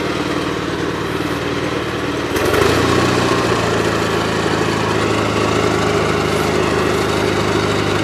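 A Gravely 8163-T garden tractor engine running steadily while driving in third gear, high range, without an air filter, a loud close drone that rises in pitch and load a couple of seconds in, then holds.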